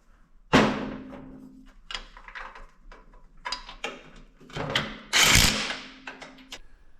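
Assembly of a Bauer 12-inch variable-speed drill press, bolting its column to the base with four 16 mm bolts: heavy metal clunks and scrapes, a few loud knocks and scattered ticks and rattles between them, no speech.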